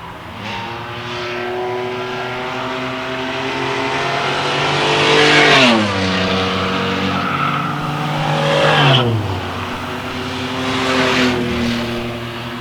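Race cars lapping a track, several engines roaring together with a steady drone that swells and dips as cars pass, pitch sweeping down at each pass-by, loud and continuous.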